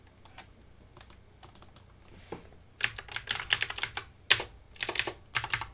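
Computer keyboard keys clatter during a rhythm RPG, sparse soft taps at first, then dense bursts of close, quick key presses in irregular clusters.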